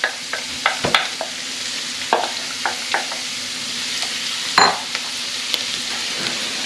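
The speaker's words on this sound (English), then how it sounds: "we're going to start sauteing with all the onions" Onions sautéing over high heat in a pot for a Maine lobster pot pie, a steady hiss with repeated sharp scrapes and clicks of a stirring utensil.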